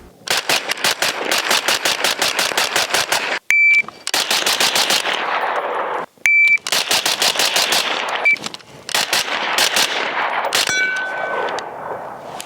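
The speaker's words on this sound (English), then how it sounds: "Now that we got our first shots out of the way" Rapid strings of suppressed rifle shots from a Springfield Armory Hellion bullpup, fired in fast bursts with brief pauses and metallic clinks between strings, loud and close with no talking.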